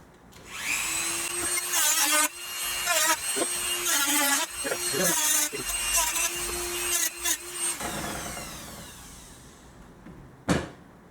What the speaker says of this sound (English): We need to trim both of those pillars completely off.